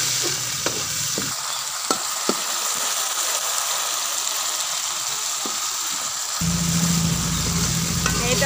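Spices and ginger paste fry in a pot for aloo matar, with a continuous sizzle and sharp stirring clicks. The sizzle swells louder near the end, and no one talks.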